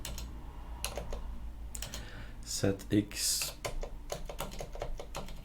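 Keys clatter on a computer keyboard while a Linux system is being set up, with irregular taps scattered through the stretch and someone speaking briefly over them.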